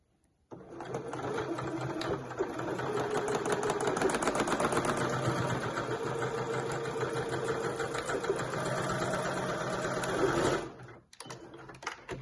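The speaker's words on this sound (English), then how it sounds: "I'm just going to sew up and down through there" A sewing machine whirs steadily and close for about ten seconds, stitching back and forth through the elastic ends of a fabric scrunchie, then stops with a few brief clicks.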